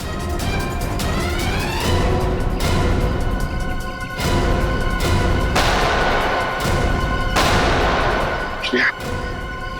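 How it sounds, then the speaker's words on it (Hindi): Loud gunfire booms in spaced bursts roughly every two seconds, each blast ringing out over a dense, continuous noisy background. "वहां से चल रही है गोलियां।"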